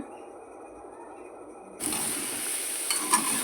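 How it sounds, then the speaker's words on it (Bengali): Soybean chunks stir-fried in oil in a pan: quiet at first, then a sudden loud burst of close sizzling with scraping stirs and a couple of metallic clinks. "সয়াবিনগুলো ভালো করে ভেজে নিতে হবে"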